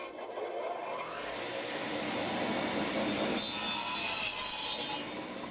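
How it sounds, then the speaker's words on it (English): Power saw cutting wood, a dense continuous whine and grinding rasp that rises into a harsher, brighter cutting sound partway through, loud and close with no talk. "Let's kick the saw on and make some noise."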